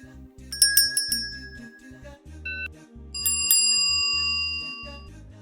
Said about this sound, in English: I will add a bell sound for the answer part